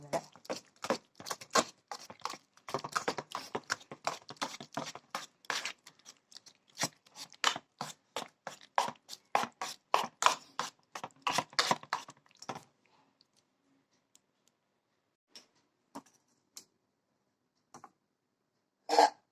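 Aval idly cake mixture of flattened rice and jaggery being stirred in a pan: quick, close scraping and tapping strokes in a busy rhythm, then a few scattered taps after a pause.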